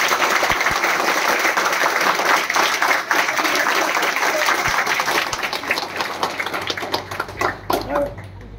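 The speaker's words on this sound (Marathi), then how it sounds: "जर पटलं तर टाळ्या वाजा रे पोरांनो." Students in a crowd clap together in sustained applause, a dense, even wash of hand claps that carries on for several seconds before thinning toward the end.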